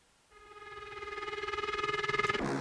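A synthesized alarm tone, a bright buzzy sustained sound with LFO volume automation, pulses faster and louder as it swells, then stops abruptly.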